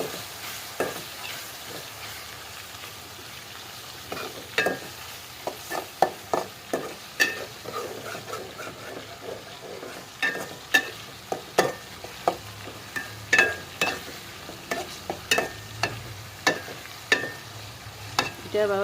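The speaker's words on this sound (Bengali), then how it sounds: "দিয়ে দিচ্ছি পেঁয়াজ কুচি তো এটা আমি বেজে নেব প্রথমে" Chopped onions, added after chopped garlic, fry quietly in a pan beneath a soft sizzle, with frequent sharp spatula scrapes and knocks at an irregular rhythm, close by and with no talking.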